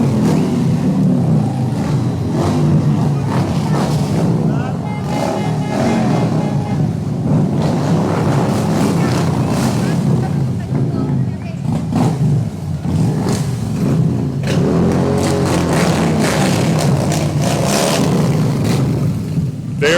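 Motorcycles ridden by veterans pass in review during a Memorial Day parade in Dearborn, engines rumbling and revving loudly and continuously at close range for about twenty seconds.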